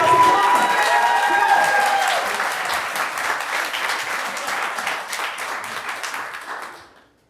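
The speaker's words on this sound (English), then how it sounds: "Come on, guys, clap to Abe." Loud, sustained applause from a comedy show audience, with some cheering at the start, holding strongly for several seconds before fading out abruptly near the end.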